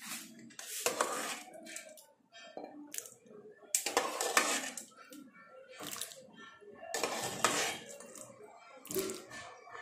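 Sambar ladled from a pot into a serving dish, with irregular clinks and scrapes of metal utensils and soft wet pouring sounds, close and moderately quiet.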